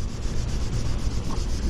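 Close, steady rubbing of sandpaper smoothing a blow-in paint repair on a car panel, a continuous brisk scratching texture with no pauses or talk.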